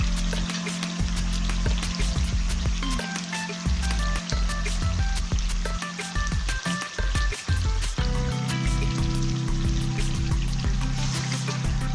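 Afghani chicken karahi sizzles and crackles over a high flame, a loud, steady frying hiss with scattered pops and spatters that carries on for several seconds.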